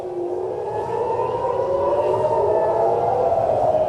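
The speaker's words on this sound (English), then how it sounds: "You're hearing the sirens." Air raid sirens wail over Tel Aviv during a missile attack, a sustained, slowly wavering tone that rises and falls from a distance over a low rumble of background noise.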